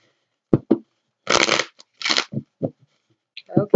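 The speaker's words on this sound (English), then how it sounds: "I'm going to get a couple shuffles here" A few short bursts of tarot cards being riffled and bridged, crisp and close, separated by brief pauses, with soft handling taps around them.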